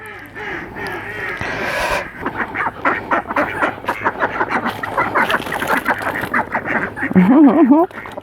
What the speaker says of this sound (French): Donc on va aller donner ça aux canards.